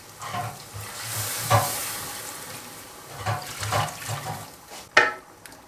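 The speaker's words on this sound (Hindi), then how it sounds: "अभी इसके अंदर मैं जो यखनी बची हुई थी वो इसके अंदर मैं ऐड करने लगा हूँ" Leftover mutton stock is poured into mutton frying in a karahi, giving a soft watery sizzle and bubbling with stirring clatter, a few sharp metallic knocks, and a louder clank near the end.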